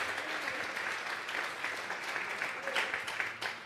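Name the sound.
applause in church service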